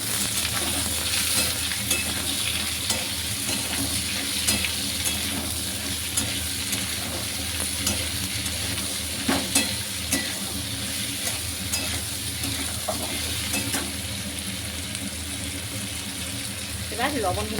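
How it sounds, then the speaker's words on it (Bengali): Potatoes frying in hot oil in a home kitchen, giving a steady, continuous sizzle with occasional scraping clicks as they are stirred, close and moderately loud. "প্রথমে আলুটা এবার ভেজে নেব।"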